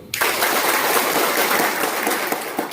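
Meeting audience breaking into loud, dense applause, a sustained roar of many hands clapping from start to finish, close and full.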